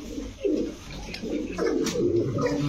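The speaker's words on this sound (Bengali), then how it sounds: "এক জোড়া ব্ল্যাক বোম্বাই দেখাবো" Black Bombay pigeons coo in low, throaty rolling calls, several overlapping phrases close by, with faint rustling and background noise.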